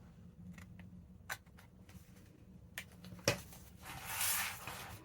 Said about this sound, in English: I'm just going to grab my little scissors so I can cut, you know, up to the spine